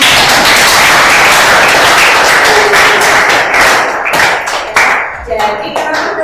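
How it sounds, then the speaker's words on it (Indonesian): Students in a classroom clapping and applauding, loud and close, with a dense burst of claps that thins into scattered individual claps and taps near the end. "Oke, tepuk tangan dulu."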